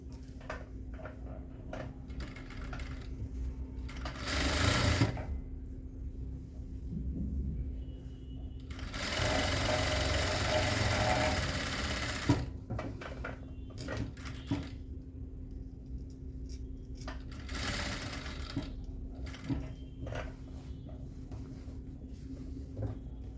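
A sewing machine stitches a semi patiala pant in a few short runs of close mechanical whirring, separated by pauses filled with handling noises and faint clicks.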